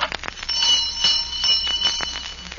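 A dinner bell rings repeatedly in a home, a bright, loud clanging series of strikes that continues throughout.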